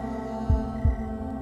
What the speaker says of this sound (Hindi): हर किसी का दिल इसी तरह धड़कता है।